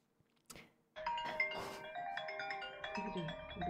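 Phone ringtone chiming during a livestream, starting after a short thump and holding a steady melodic tone pattern at moderate loudness.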